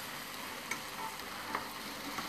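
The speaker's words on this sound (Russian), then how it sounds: "Они жарятся быстро достаточно." Small wrapped food parcels frying in a pan, giving a steady close sizzle with a few sharp pops and crackles. No one talks.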